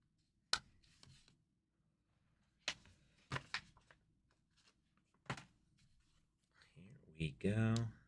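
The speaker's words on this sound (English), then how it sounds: "Get that one all written down." A pen scratches across a trading card from a 2025 Invincible Season 1 Keepsake box, with soft intermittent strokes near the mic and sharp taps between them. A person speaks briefly toward the end.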